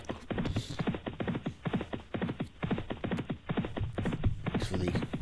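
Racehorses gallop over a jump in a restricted hunters chase, with rapid repeated hoofbeats thudding in a steady rhythm under faint background commentary.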